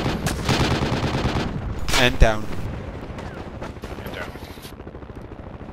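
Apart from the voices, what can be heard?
small arms gunfire in video game Project Reality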